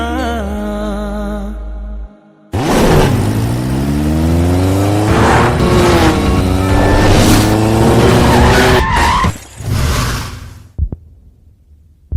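A car skids with loud tire squeal following a hard engine rev, the squeal sweeping and wavering for several seconds before cutting off abruptly, with no talk over it.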